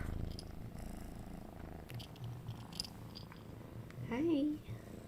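A cat's purr rumbles low and steady throughout, close by, with a brief rising meow near the end.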